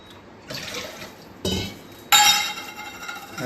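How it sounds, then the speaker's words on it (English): Two cups of water are poured into a cooking pot for a one-pot payasam, with a few splashing bursts and light clinks of vessel and cup, near and alone. "You want to add 2 cups of water."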